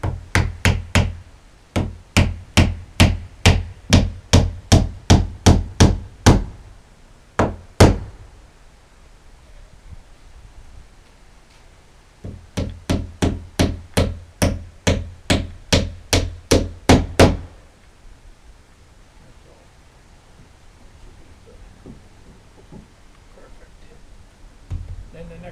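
Hammer driving number 4 nails through plywood into a 2x4 on a shed, two long runs of sharp, loud, evenly spaced blows with a couple of stray hits and quiet gaps.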